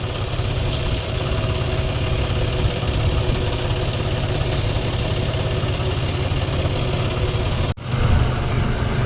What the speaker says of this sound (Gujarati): ભાઈઓ બીજું ટ્રેક્ટર આવે છે.